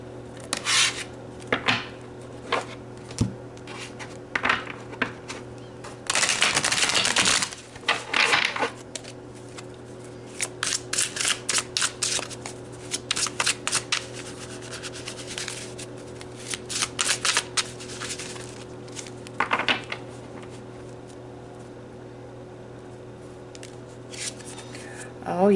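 A deck of tarot cards is shuffled and pulled in repeated bursts of crisp riffling and flicking, close and fairly loud, with quiet pauses between bursts and steady low background hum.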